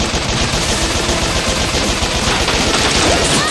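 Rapid, continuous machine-gun fire from the video game Bot Vice, loud and dense throughout with a steady crackling stream of shots and no talking.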